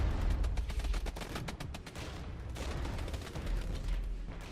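Dense gunfire and booming mortar and artillery fire roll continuously in the real-time wargame Regiments, with rapid volleys and heavier thumps layered loudly throughout, and no talking.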